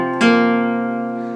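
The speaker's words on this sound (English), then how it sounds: "And we play those three notes there on the 5th, 4th, and 3rd string, all in that order." Guitar notes sounded in sequence on the 5th, 4th and 3rd strings while learning a Hytale tune, heard as a plucked attack that then rings on as one sustained, clear tone, close and alone with no talk.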